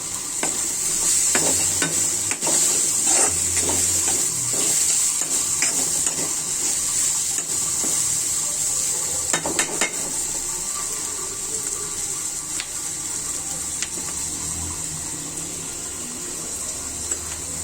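Pieces of rui fish fry in a pan with a continuous bright hiss, joined by irregular clatters and scrapes of handling, close and fairly loud, with no talking.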